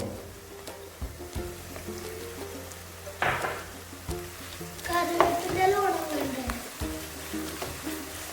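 Curry leaves hitting hot oil with sautéed onions in a pan for a traditional Kerala chicken curry, giving a crackling sizzle that swells midway and settles into steady frying, with light stirring noises throughout.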